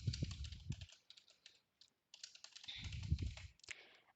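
Password being typed on a computer keyboard while setting up a SQL Server login: two bursts of quick, close key clicks separated by a short pause, with a few lone taps at the end and no talking.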